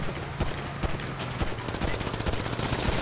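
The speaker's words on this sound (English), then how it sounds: "Everybody shoot up the windows!" Sustained automatic gunfire in Grand Theft Auto Online during a prison-break heist, with shots rattling steadily as windows get shot up. The rapid fire runs loud and continuous throughout.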